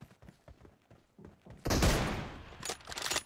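Gunshot in a PUBG-style shooting game with an M24 sniper rifle, a single loud sharp blast with a lingering rumble after soft footstep-like taps, followed by further bursts.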